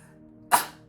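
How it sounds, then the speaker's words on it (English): A single short, sharp sneeze bursts out suddenly, close and loud, after a moment of near silence. "I'm gonna sneeze."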